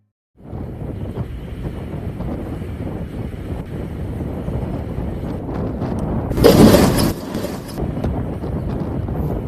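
Steady, hollow wind rushes through a narrated spooky story, a constant close roar that swells into a brief stronger gust near the end before settling back, with no voices over it.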